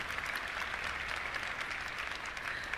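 An audience at a VR developer conference claps, a dense, even burst of applause lasting a few seconds with no voices over it.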